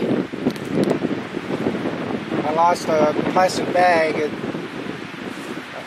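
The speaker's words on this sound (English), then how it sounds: "It's pretty windy." Gusty wind in a park buffets the microphone with a low rumbling roar that rises and falls throughout, while a person talks over it close by.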